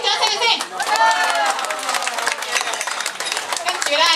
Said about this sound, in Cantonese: 我哋俾掌聲先